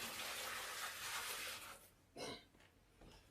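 Water is poured out of a cooking pot into a sink, a steady splashing gush that fades toward the end with a short final slosh.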